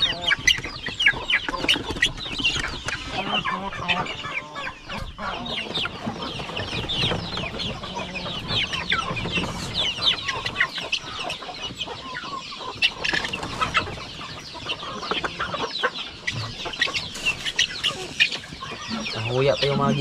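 Guineafowl chicks and native chickens on a farm fill the air with dense, continuous clucking and peeping, many birds calling at once, close and fairly loud throughout.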